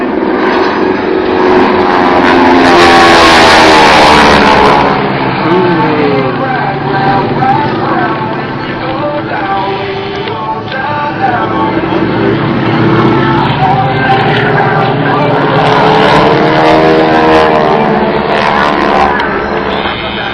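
A Harvard World War II advanced trainer flying a barrel roll at an airshow makes a loud, continuous propeller engine drone whose pitch rises and falls as it passes, heard with a commentator's voice over it.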